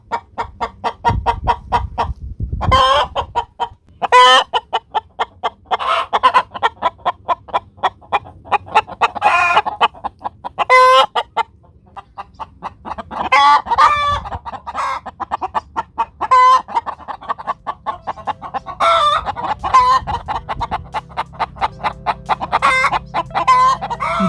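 Chickens cluck repeatedly in loud, close, rhythmic bursts, with occasional louder calls breaking through the continuous barnyard clucking.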